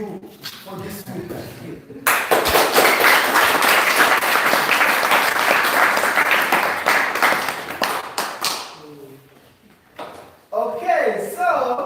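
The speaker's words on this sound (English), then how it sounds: "give yourself a deserving round of applause for yourself" Workshop participants break into loud, sustained applause lasting several seconds, dense clapping that swells and then fades, with talking before and after it.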